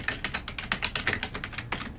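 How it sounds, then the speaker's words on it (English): Rapid, irregular keystrokes on a computer keyboard, close and clear, with the clicks running steadily for about two seconds and no voices present. "So you will do this simply by typing"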